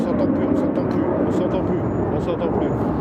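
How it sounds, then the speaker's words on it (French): An airplane passes overhead, a loud, steady low roar that covers the whole moment, with faint voices in the background. "il y a un avion qui passe en plus en haut"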